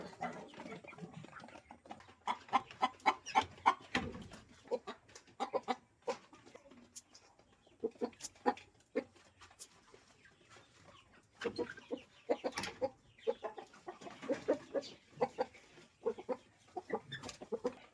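Chickens cluck and squawk close by on a rural backyard farm, a steady run of short, overlapping calls with occasional louder squawks and faint background rustling.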